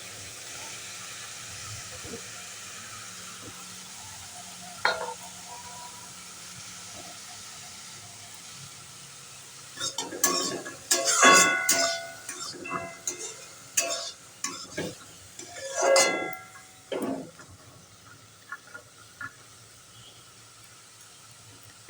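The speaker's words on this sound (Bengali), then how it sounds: "এবারে এর মধ্যে মটরশুঁটিগুলো দিয়ে দিলাম" Green peas stirred and fried in a pan: a quiet stretch with a single early clink, then a busy run of scraping, rattling and sizzling bursts midway before it settles again.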